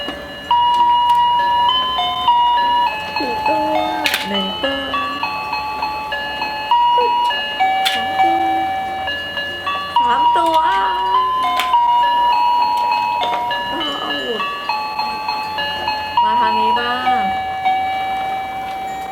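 A toy fishing pond plays a tinny electronic melody in bright, beeping notes, looping on and on while people talk and chatter over it nearby.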